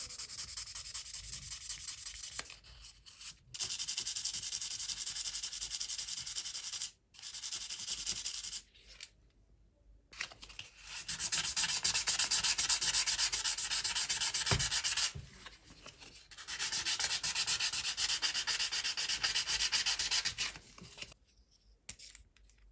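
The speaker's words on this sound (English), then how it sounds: "To remove the scratches, I start by sanding the bracelet and case." Abrasive sanding against a vintage Orient watch's metal bracelet and case in long continuous strokes, stopping and starting in several bursts with short quiet gaps between passes.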